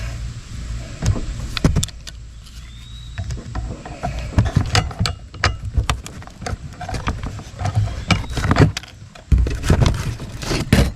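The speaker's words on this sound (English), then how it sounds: "Let's see if we can get it with this crescent wrench here." A crescent wrench works a nut on a Case IH 75C tractor during a glass replacement, giving repeated sharp metallic clicks and clanks in irregular bursts, close and fairly loud, with some rustling between.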